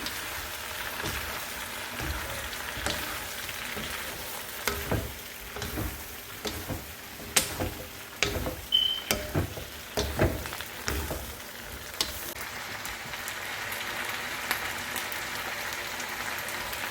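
Onions and capsicum fry in a pan for pepper chicken, a soft steady sizzle broken by irregular sharp scraping knocks of stirring that cluster in the middle and then ease off.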